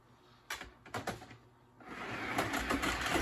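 A Marx M10000 toy train motor runs at full power from a ZW transformer: a few sharp clicks and knocks come first, then a mechanical whir that builds and holds to the end.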